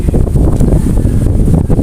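Strong outdoor wind buffets the microphone in a steady, loud, low roar with constant rumbling gusts and no pauses or speech.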